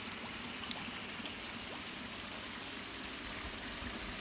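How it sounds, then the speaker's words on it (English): Steady rushing water, a continuous even splashing flow from a waterfall feature spilling into a large koi pond, with no voices. "And I do love the waterfall feature"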